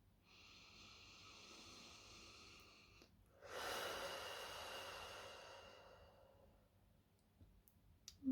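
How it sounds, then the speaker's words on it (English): Deep slow breaths in and out, a long airy inhale followed by a stronger, noisier exhale, close and quiet with a faint click at the end and no speech. "I'm going to start off by just taking a few deep breaths."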